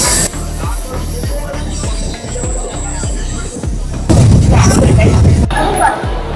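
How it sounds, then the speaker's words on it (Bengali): Santragachi–Digha local train pulling into Digha station, with rhythmic clickety-clack of wheels over rail joints, metallic squeals and a louder rumbling stretch near the end, all loud and close from onboard. "দীঘা স্টেশনে ট্রেন ঢুকছে"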